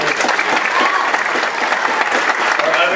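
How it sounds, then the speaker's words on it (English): An audience claps steadily and fairly loudly for an award recipient at a high school spring choir and band concert, a dense continuous patter of many hands throughout. "Yeah, you can go ahead and clap."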